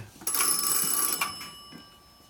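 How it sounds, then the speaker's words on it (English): A telephone ring sent over a phantom pair circuit in a telephone company office comes as a single bright, buzzing ringing burst that stops, then fades into quiet. "And I'm ringing out over the phantom pair now."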